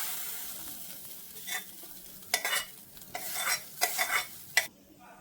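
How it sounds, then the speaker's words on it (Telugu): Mint leaves dry-frying in a pan, with soft crackling under repeated bursts of stirring and scraping that come and go; no voices. "ఇది డ్రై అయ్యేంత వరకు వేయించేసుకుందాం"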